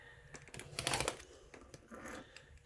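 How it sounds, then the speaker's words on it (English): A rotary cutter slices a strip of fabric along a quilting ruler in one faint, close, scraping pass, with a few soft taps and rustles before and after and no talking. "We're ready to cut. This is my first cut."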